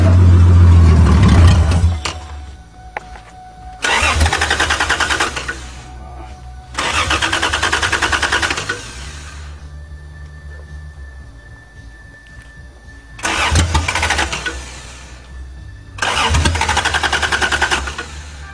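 A Toyota Cressida engine cranks and catches repeatedly, loud and close, with several bursts of starting and revving separated by quieter idling stretches, no talk heard.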